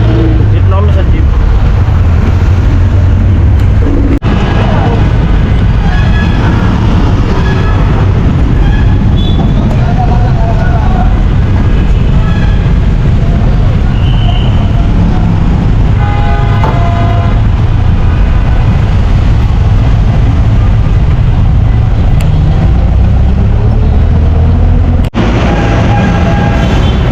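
Interior of a moving jeepney, a loud continuous engine rumble and road roar with rattles and shifting drone throughout, with people talking over it.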